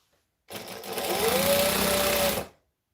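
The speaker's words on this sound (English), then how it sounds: "I'm going to sew down the edges" A sewing machine stitches down fabric edges in one close, continuous run of about two seconds, a steady whirring hum that starts and stops abruptly.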